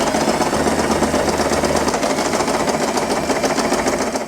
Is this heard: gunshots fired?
no